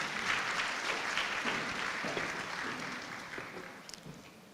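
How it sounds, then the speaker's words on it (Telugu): An audience in a hall at a Hyderabad spiritual celebration claps to welcome visiting practitioners from Guntur, a dense, steady round of applause that gradually thins and fades toward the end. "గుంటూరు నుంచి విచ్చేసిన మన ట్రూత్ వివేకామృత సాధకులకు స్వాగతం పలుకుతూ చప్పట్లు అందజేయవలసిందిగా కోరుతున్నాము"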